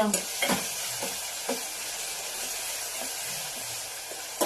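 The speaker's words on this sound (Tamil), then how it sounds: "முட்டை கிரேவி பண்ணிட்டு இருக்கேன்" Egg gravy with boiled eggs and tomato cooks in a pan, giving a steady close sizzle and hiss broken by a few soft scraping stirs, with no talk.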